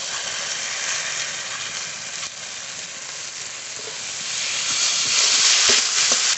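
Cumin, coriander, dry chilli and ginger paste frying in a pan: a loud, steady hiss and sizzle that swells toward the end, with faint stirring clicks and no talk.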